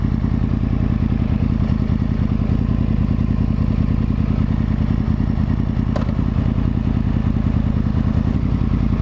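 A Yamaha R1 motorcycle makes a U-turn, its engine a loud, close, steady mechanical drone throughout with no clear rises in revs.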